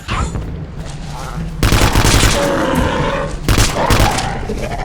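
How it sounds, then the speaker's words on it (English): Hyena enemies fire laser guns in the video game Vivisector: Beast Within, a loud, dense burst of rapid gunfire and booms close up, with a voice speaking over part of it. "I think these hyenas are better with their laser guns than I am."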